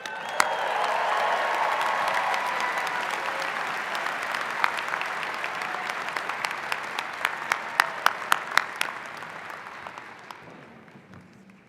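Audience applause at a university commencement ceremony for a College of Health and Human Sciences class, a loud sustained crowd clapping that swells, holds steady with sharp individual claps standing out, then gradually fades near the end.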